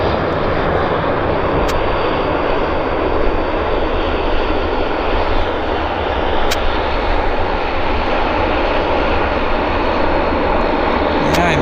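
An airliner lands at Vancouver airport, its engines making a loud, continuous broadband roar that holds steady throughout, with voices talking faintly underneath.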